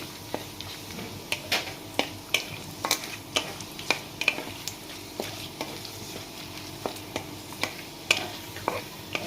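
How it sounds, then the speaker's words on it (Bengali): Cashews fry until golden in a pan with bay leaf and cardamom, a soft sizzle punctuated by regular sharp taps and scrapes of a spatula, close and with no talking. "একটু লাল করে কাজুগুলো ভাজবো"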